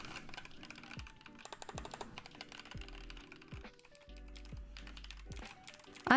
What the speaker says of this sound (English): I actually think the clicky sounds good here. Maybe it's because it's a gaming keyboard.